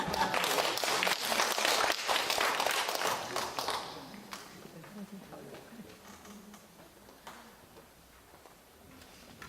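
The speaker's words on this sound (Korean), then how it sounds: "박수 치고" Applause and clapping from a church congregation for a few seconds, fading into quieter murmuring and scattered sounds.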